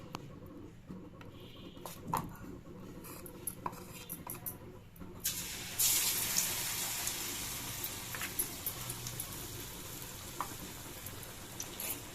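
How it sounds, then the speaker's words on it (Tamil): Cassava bonda dipped in batter sizzles in hot oil, a steady frying hiss that swells loudly once the pieces go in, with occasional clinks of a utensil stirring and turning them. "இப்போ மாவில் டிப் பண்ணி போண்டா எப்படி பொரிக்கிறது பார்க்கலாம்"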